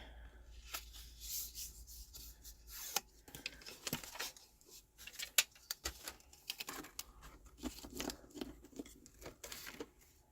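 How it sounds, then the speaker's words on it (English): Faint rubbing and scraping strokes come in irregular bursts as a scored card sheet is burnished flat by hand, close up and quiet, with soft crinkling between passes. "Right, so really burnish this."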